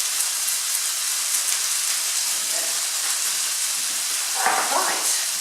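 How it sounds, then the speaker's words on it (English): Lamb pieces browning in olive oil in a casserole dish give a steady, dense sizzle throughout, with a brief murmur of voice near the end. "I can hear that lamb is really sizzling away"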